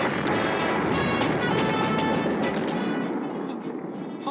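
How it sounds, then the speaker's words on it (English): Bombs explode across an island in the animated film Mad Monster Party, a dense, loud, continuous roar of blasts and rumbling that fades slightly at the end. "He bombs everyone. The whole"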